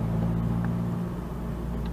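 Manual-transmission car engine heard from inside, a steady low rumble with a slight dip and recovery in revs as the gears change, fairly loud and continuous with no talking.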